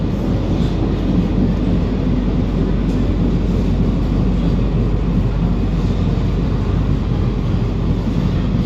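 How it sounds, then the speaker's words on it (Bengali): A Sealdah–Kalyani AC local train pulling into Khardah station, a loud, steady rumbling roar of wheels and carriage noise running throughout without a break. "ট্রেন এসে পৌঁছালো এই মুহূর্তে খড়দহ স্টেশনে"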